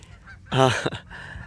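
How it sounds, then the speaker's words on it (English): A goose lets out a loud, close honk, followed by a shorter second call, with quiet background in between. "these geese are loud."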